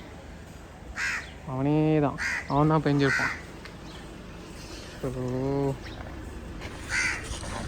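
Crows near a parked car caw loudly in three close bursts of repeated harsh calls, with someone speaking briefly between them.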